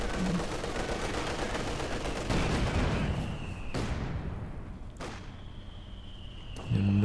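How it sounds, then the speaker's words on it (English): Battlefield gunfire in Company of Heroes 2, with mortars pounding enemy machine-gun positions: a dense, continuous roar of shooting broken by a few sharp, heavy blasts, loud and close throughout. "And those mortars going to town on the machine guns."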